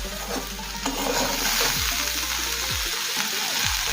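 Okra and potato frying in a pan, a steady close sizzle broken by several scraping stirs of a spatula, with no voices.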